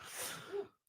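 A single sneeze, breathy and close, bursts out and fades quickly before a brief silence.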